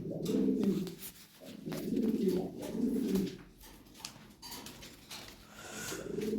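Lahori pigeons cooing close by in three or four low, throaty rolling phrases, with quieter gaps between them and faint background noise.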